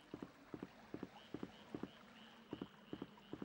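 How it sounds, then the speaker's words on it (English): Frogs croak in the Resident Evil 3: Nemesis game on PSX, short paired croaks repeating steadily in a quiet ambience, faint and evenly spaced with no talk over them. "I can hear the frogs."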